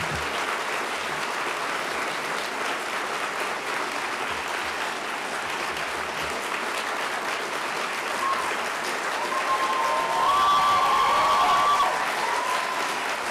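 A journalism awards ceremony audience applauds after a speech, long sustained clapping that swells slightly louder near the end, steady and crowd-filled with no speech over it.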